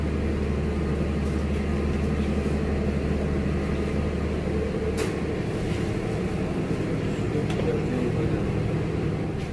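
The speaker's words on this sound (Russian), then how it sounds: "Наше мясо по-таджикски отбивная идет в микроволновку." Steady low mechanical hum of a microwave oven running continuously while Tajik-style beef cutlets heat inside, an even drone with a few faint clicks and no break for the whole stretch.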